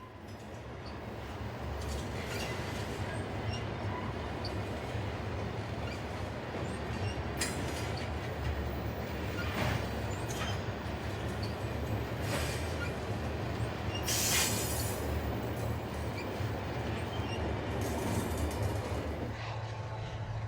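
Freight train of the Ellis and Eastern railroad, which hauls sand, gravel, cement, scrap metal, grain and lumber, rumbling steadily past with a constant low roar and occasional brief squeals of wheels over about twenty seconds.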